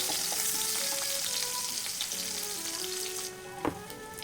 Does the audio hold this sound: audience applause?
no